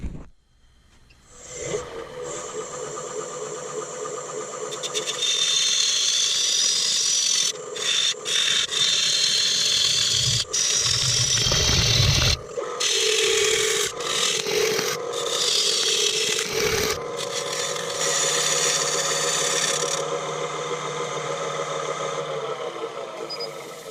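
A sharp gouge cuts a sapele fruit bowl spinning on a wood lathe, making a steady, close, loud rasping scrape that wavers with a few brief breaks.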